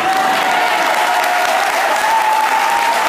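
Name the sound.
church congregation applauding and cheering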